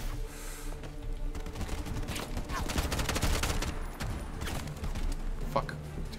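Gunfire in the video game Bright Memory Infinite crackles in dense, rapid bursts throughout, layered over a busy, rumbling game soundscape.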